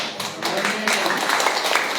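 Church congregation applauding for God during a sermon, a dense, steady wash of many hands clapping together with voices mixed in throughout.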